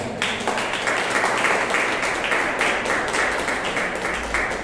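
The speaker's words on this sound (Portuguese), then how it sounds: "Do Senhor Jesus, uma linda salva de palmas." A church congregation breaks into applause for Jesus during a sermon: a dense, continuous roar of many hands clapping at steady loudness throughout, with no voices standing out.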